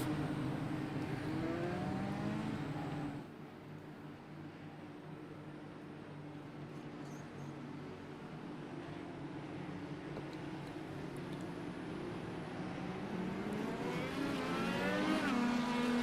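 Champ Car race cars roar around the Rockingham track, engines droning steadily, with one passing loudly at the start and more building toward a loud pass at the end.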